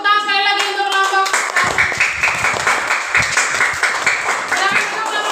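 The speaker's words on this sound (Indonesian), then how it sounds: "Tepuk tangan sekali lagi untuk kelompok" Applause from a classroom of elementary pupils at SDIT Nurul Islam Harapan Baru, Bekasi, cheering a student group: a voice speaks briefly, then dense, steady clapping from many hands fills the room and continues to the end.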